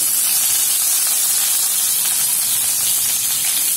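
Ginger garlic paste and curry leaves sizzle in hot oil while making besan shimla mirch, a steady, loud, unbroken hiss with no talking.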